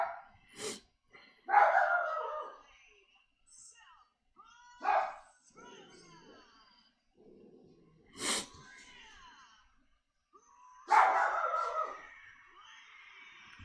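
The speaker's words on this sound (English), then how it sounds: "Pablo, don't start barking, bro." A dog gives a few sharp, scattered barks spaced several seconds apart, with quieter sounds and voices in between.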